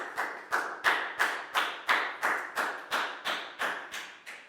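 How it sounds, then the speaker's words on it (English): Applause for a pupil in a Year 4 classroom: about fourteen evenly spaced, fairly loud claps in a steady rhythm, with no voices over them. "Big round of applause for Lakgao"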